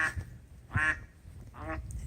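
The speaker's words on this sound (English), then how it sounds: "Quack, quack." Ducks on a farm, including mallards, Muscovies and white ducks, give three separate nasal quacks, moderately close with quiet background noise between them.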